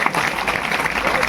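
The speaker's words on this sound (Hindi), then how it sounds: "तालियों से विदा कीजिएगा।" Audience applause at a Bhim Jayanti festival celebration, a short dense burst of clapping from a crowd that fills the whole moment, with a speaking voice faintly mixed in.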